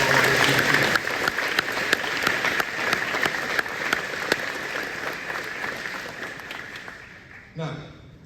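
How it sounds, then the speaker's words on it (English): Applause from a graduation crowd at Norwell for three retiring teachers, sustained dense clapping heard at some distance that gradually thins and fades out near the end. "I believe a quick round of applause is well deserved for Madame Smith, Madame Morgan, and Mr. Miller"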